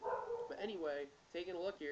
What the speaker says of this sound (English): If you hear something in the background, that's just my dog